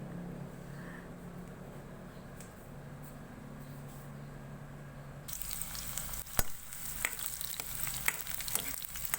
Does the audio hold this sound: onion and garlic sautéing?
yes